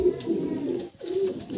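Pigeons cooing nearby at a pigeon-keeper's home in hot weather, a soft repeated throaty coo rising twice with a brief pause between, no talking over it.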